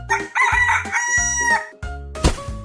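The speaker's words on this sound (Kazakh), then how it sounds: "Әтеш." A rooster crows once, loud and close, with a long harmonic call rising and holding before breaking off, followed by a short clucking note.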